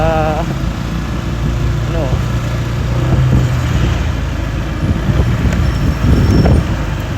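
A small 49cc gasoline engine on a motorized bicycle idles and putters steadily, a loud close-up drone beneath someone talking throughout.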